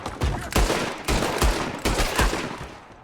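Guns firing in Red Dead Redemption 2: a rapid run of loud, close gunshots in uneven bursts, each sharp crack followed by a short decay, with no voices.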